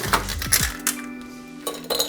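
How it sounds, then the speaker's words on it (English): Ice cubes clink and rattle into a tall, slender colada-style cocktail glass during home preparation of a Pina Libre: a few sharp close clinks in the first second, then quieter scattered taps with no talking. "I'm gonna add some ice to my glass."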